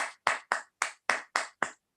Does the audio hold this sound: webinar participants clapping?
yes